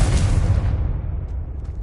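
Confringo spell explosion in a video game: one heavy, deep boom that hits at once and rumbles away over about two seconds, close and loud, with no voices.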